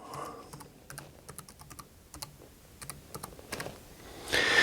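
Someone enters a Wi-Fi password on a computer keyboard while setting up a Raspberry Pi 3 B, producing sparse, irregular clicking keystrokes close by in quiet, with a brief louder rustle at the end.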